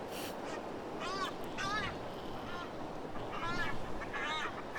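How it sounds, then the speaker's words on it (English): Seabirds honk and call at dawn on Santiago Island in the Galapagos, a chorus of repeated nasal cries rising over steady background noise, fairly close. "The din of the birds is a rousing wake-up call for this young Galapagos sea lion"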